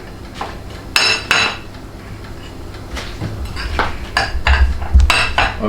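Chicken cordon bleu filling with onion and garlic powder is mixed in a bowl, giving a series of loud scraping and clinking utensil strokes in uneven bursts, close up, with no talking.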